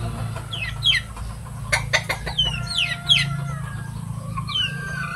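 Gamefowl chickens of a mixed bloodline cluck and call repeatedly in a farm yard, with several overlapping clucks and short squawks close by over a steady low background hum.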